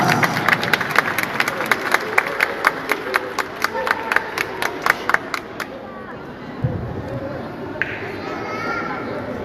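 Rhythmic unison clapping from the audience at a Christmas carol contest in a cathedral basilica, a strong steady beat for about five seconds before fading into murmuring chatter and children's voices.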